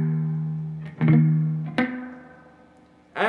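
A guitar riff, played slowly: a few separate picked notes and chords ring out one after another, each attack sharp and then decaying, with no voices.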